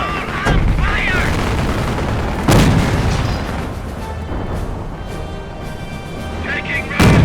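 Gunfire and artillery bursts from the video game Company of Heroes: loud, dense, continuous battle noise with sharp booming impacts near the start, middle and end, and brief shouted voice lines over the din.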